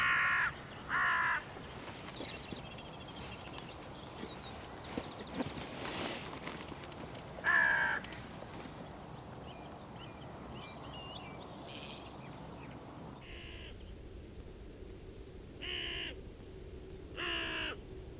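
Hooded crows caw outdoors around a rabbit carcass, loud harsh calls arriving in several separate bursts spread across the stretch, with quieter calls and rustling in between.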